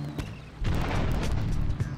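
A single deep cannon-like boom with a rumbling tail, followed by a softer pop, amid game-style background sound from GTA 3 Definitive Edition.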